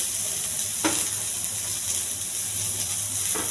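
Onions and green chillies with cumin seeds frying in a pan, a loud steady sizzle close by, with a couple of brief stirring clinks over the constant crackle.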